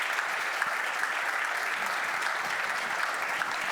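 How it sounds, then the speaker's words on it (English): An audience at a soccer industry conference gives a panel a round of steady applause, a dense even clapping that holds at a constant level from start to finish. "if you give them a big round of applause"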